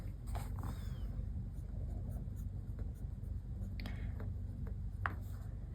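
A fountain pen with a fine steel Cypress nib writes on paper, giving faint, close scratching strokes with a few sharper ticks over a steady low background hum.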